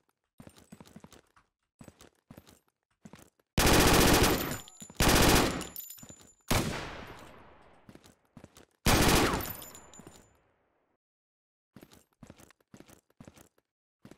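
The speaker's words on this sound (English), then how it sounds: "The recoil on that changed a lot. The P90 does not feel the same in this patch." A P90 submachine gun fires in the video game ZERO Sievert: several loud, close bursts of rapid automatic fire with ringing tails, separated by quieter footsteps and small clicks.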